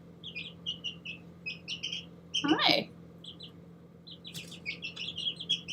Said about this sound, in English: How pretty is this bird?